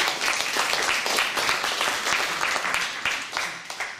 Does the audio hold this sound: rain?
no